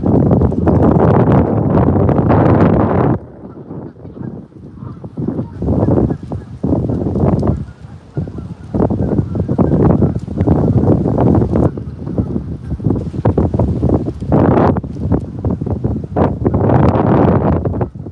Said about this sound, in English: Look at that wind blowing my beard around.